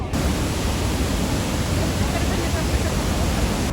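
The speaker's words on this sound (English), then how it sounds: "Niagara Falls, the American side." The American side of Niagara Falls roars as a thick, unbroken wall of noise from falling water, loud and steady throughout.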